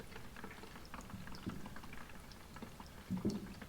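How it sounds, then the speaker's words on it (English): Fuel being poured from one container into another while winterizing a lawnmower, a soft continuous liquid trickle and gurgle that swells briefly toward the end, fairly quiet and with no talking. "So we'll go ahead and pour this off into this other container"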